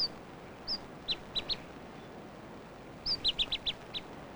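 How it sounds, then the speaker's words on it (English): Clear, high-pitched song of a Chatham Island black robin in two bursts of short whistled notes, a single note followed by a quick series, with a pause between phrases; quiet background. "This is a Chatham Island black robin."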